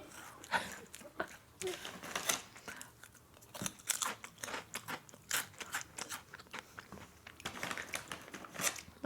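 Crunchy kimchi being chewed up close, quick irregular crunching bites repeating throughout, with a few voices talking between the chews.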